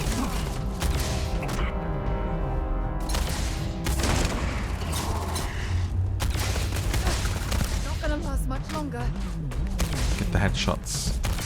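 Rapid gunfire in the sci-fi game Starfield: dense volleys of sharp shots and booming impacts crackle in quick succession over game music and voices, loud and close.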